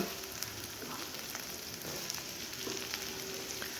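Vegetables stir-fried in a pan with chili powder and turmeric hiss in a continuous close sizzle, with faint scraping stir sounds scattered throughout and no voices.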